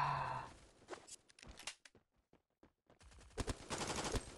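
Rapid bursts of MP7 submachine gun fire in the mobile shooter Forward Assault, clustered at the start and end with a quieter gap of scattered single shots between.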